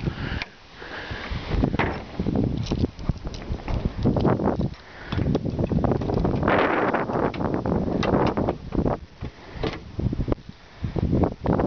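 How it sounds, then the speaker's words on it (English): Steady wind buffets the microphone with low rumbling gusts, broadband and continuous, with a few brief knocks and rustles mixed in. "Also, it's a windy day here."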